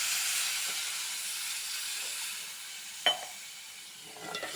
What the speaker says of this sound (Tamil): தண்ணி ஊற்றி நல்லா கொதிக்கட்டும்